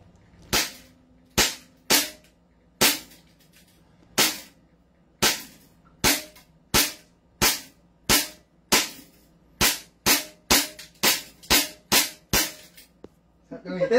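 Trex 2011 Hi-Capa pistol firing about twenty sharp, loud shots, irregularly spaced at first and then coming faster in a quick run toward the end, each with a short decaying tail.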